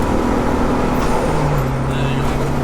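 Loud, continuous engine roar of a 300 bhp turbo-swapped Vauxhall Astra GTE at full throttle in fourth gear, a sustained drone that shifts pitch partway through, with a voice speaking over it.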